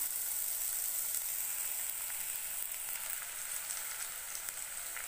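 Finely chopped large onion fries in a pan while garlic rice is being made. The sizzle is soft and steady with faint crackles, fairly quiet and with no talking.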